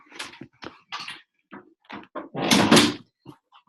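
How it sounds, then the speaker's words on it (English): A door being closed inside a home: a string of close knocks and clunks, then a louder heavy bang near the end, followed by a couple of faint taps. "let me close the door real quick"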